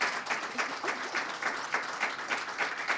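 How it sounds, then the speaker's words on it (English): An audience claps for two honorees at a public library educators showcase, a full, steady round of applause with a faint rhythmic pulse running through it, close and continuous with no voices. "Can we get another round of applause for the both of them?"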